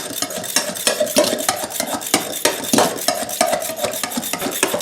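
A hand-pushed Yankee egg beater whisking eggs in a bowl, rapid rhythmic plunging clicks and rattling whirs repeating steadily and close, with no voices.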